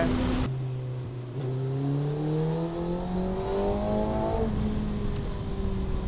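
A Kawasaki ZX6R motorcycle engine rises steadily in pitch as the throttle opens on a ride, a loud, close whine climbing smoothly through the gear with a brief shift midway, then holding high, with no one talking.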